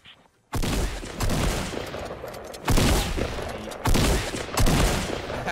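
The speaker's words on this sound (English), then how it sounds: "a guy's shooting at me" Gunfire in the video game Fortnite: loud bursts of rapid shooting come in repeated volleys, separated by brief pauses, with no talking.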